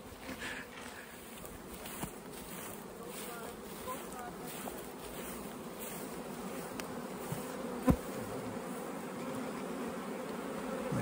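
Honey bees buzz steadily around an open beehive during a beekeeping inspection, a dense continuous drone with individual insects flying close by, plus faint outdoor breeze and a soft knock.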